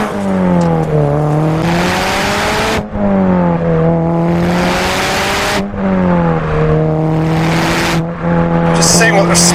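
Car pushed hard on a test drive, engine climbing through gears in three or four repeated surges, each rising pitch cut by a brief shift gap, loud and close from inside.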